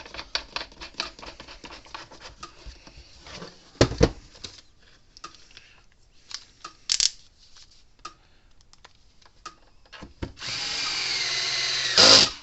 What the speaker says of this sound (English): So we'll put the screws back in it and everything.